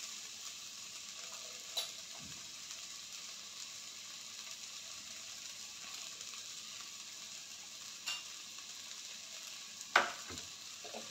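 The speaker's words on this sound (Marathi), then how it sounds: "हळद घालून मिक्स करून घेऊया चांगलं" Turmeric being mixed into a ground roasted masala paste in a pan for an eggplant dish, a soft steady sizzle with a few sharp spoon clicks against the pan, quiet and alone.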